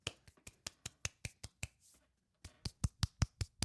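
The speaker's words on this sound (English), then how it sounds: "I can't clap too loud because we have neighbors" Quiet hand clapping in a room, a steady series of soft sharp claps at an even rhythm, broken by a brief pause before resuming slightly louder.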